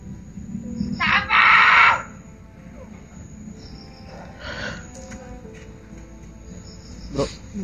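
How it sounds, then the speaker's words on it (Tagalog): A person screams loudly in two bright bursts, one long and intense near the start and a shorter one later, over a noisy background with insect-like chirps and faint voices. "Pakinggan yung sigaw niya ba?"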